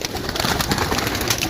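Pigeons coo in a dense, close, continuous chorus over loud fluttering and background noise in a brief burst.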